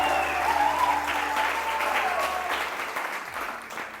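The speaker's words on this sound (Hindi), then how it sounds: "बहुत सारी तालियां इन सब के लिए।" Sustained studio audience applause for a TV serial's cast on a Hindi morning show, steady dense clapping throughout that fades slightly toward the end, with no talk over it.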